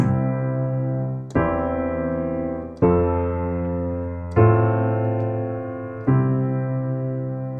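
Five sustained piano-like chords ring out in turn at an even, unhurried pace, alternating root position and first inversion of chord 1 and chord 4. Each one decays slowly before the next is struck.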